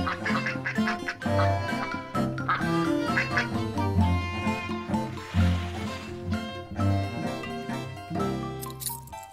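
Cartoon ducks quack in a busy, overlapping chorus at a duck hotel, bright and close over steady background music.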